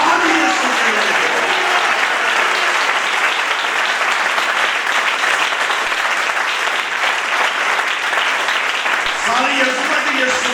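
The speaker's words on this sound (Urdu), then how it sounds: "ساری تالیاں یسوع کے لیے ہیں" A church congregation applauds in praise of Jesus, a loud, steady wash of clapping that runs for about ten seconds with a voice faintly audible beneath it.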